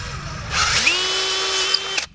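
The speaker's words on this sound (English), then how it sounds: "And then we're going to take a 1/4-inch drill bit" A power drill fitted with a 1/4-inch bit runs through a piece of rail, whining up to speed after a short rev. The drilling holds a steady pitch for about a second and a half and then stops sharply.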